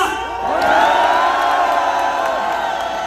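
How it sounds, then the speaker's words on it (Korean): A rally crowd in front of Gumi Station roars and cheers together at an anti-impeachment gathering, a loud sustained wave of whoops and shouts that swells and holds close by. "윤석열 대통령께 한 번 더 응원하는 함성 한번 부탁드립니다"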